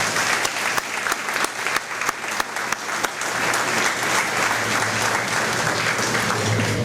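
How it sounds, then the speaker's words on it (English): Sustained applause from an audience at a senior honors recognition program for city school students, dense clapping that holds steady from start to finish with a few sharper claps standing out early. "give yourselves a big round of applause again for a job well done"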